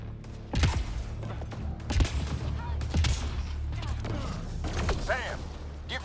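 Enemy gunfire in the game Mass Effect, a few sharp, loud shots cracking out at irregular intervals over rumbling ambience, with whizzing sounds and a voice speaking between the shots.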